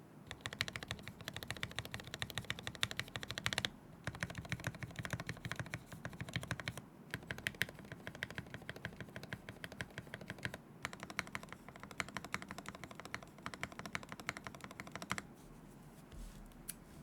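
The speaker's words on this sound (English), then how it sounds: "the sound profile might sound like a little different from like GMK or PBT, but these are palm jelly keycaps" Steady, fast typing on a mechanical keyboard fitted with palm jelly keycaps and Millmax-modded switches, a dense run of close clacky keystrokes with brief pauses, sounding alone.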